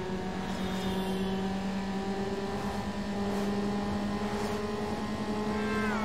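Steady high revving of a car engine held near the limiter at the starting line in Need for Speed Underground, a loud sustained drone with bright harmonics and a slight rise in pitch near the end, no talk.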